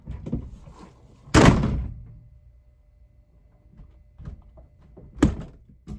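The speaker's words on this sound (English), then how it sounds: "So let's put this right here and close the door." A solid thunk as a van door shuts nearby, followed by quieter knocks and a second sharp bump a few seconds later, in the rain.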